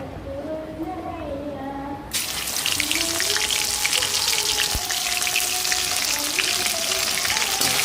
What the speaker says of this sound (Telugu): ఆయిల్ బాగా వేడైన దాంట్లో అయితే ఇంకా అల్లం చిన్న పేస్ట్ అయితే వేసుకుందాం